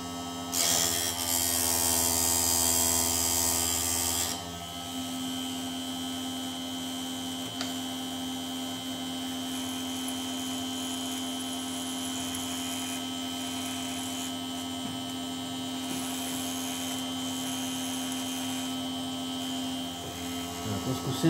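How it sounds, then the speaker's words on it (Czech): A Parkside PSG 85 C2 chainsaw chain sharpener runs with a loud high grinding whine for the first few seconds, then settles into a steady motor hum with faint intermittent grinding touches. "Takže můžeme opět brousit."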